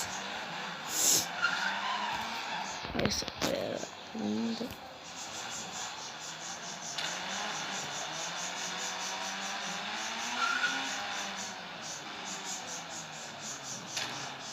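A car drifting in a video game, tires skidding and screeching in long sustained squeals over steady engine noise, with a few sharper bursts early on and no talk over it.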